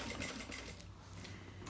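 A sewing machine runs steadily, stitching a seam through plastic on a small travel toiletry organizer, a close, continuous mechanical whir with a faint rhythmic tick and no talk.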